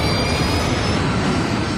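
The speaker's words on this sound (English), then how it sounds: "The crew brings up power to the engines on the wings." Jet engines mounted on the wings of an American Airlines airliner spool up, a steady, loud broadband roar with a faint high whine running through it, continuous and without any talk.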